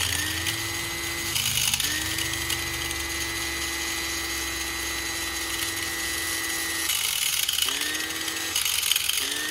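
A grinder runs with a steady high whine for several seconds, dropping briefly twice before spinning back up, close and loud, with no voices, during a DIY bumper fix and body lift job.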